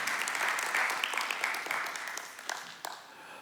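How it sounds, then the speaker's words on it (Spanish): A church congregation claps together, producing a brief burst of fairly even applause with sharper individual claps that settles down within a few seconds. "Si yo fuera usted, le daría un aplauso a Jesús"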